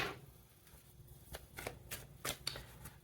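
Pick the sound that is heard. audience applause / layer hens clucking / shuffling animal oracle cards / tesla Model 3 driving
shuffling animal oracle cards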